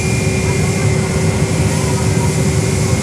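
JetBlue airliner at Fort Lauderdale airport makes a loud, steady jet roar with a thin sustained engine whine, unbroken for the full few seconds.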